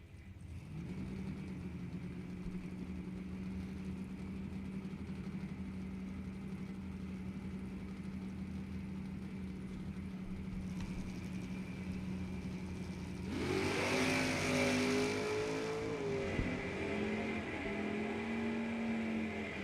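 Mustang drag cars sit idling in a steady drone at a dragway, then one launches with a loud, rising roar of revving engines down the strip.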